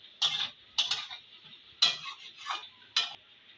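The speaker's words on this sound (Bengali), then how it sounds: "একবার নেড়ে দেবো।" Potatoes and soybean curry being stirred in a frying pan, giving several brief scraping, clinking strokes of utensil against metal at irregular intervals over a faint background.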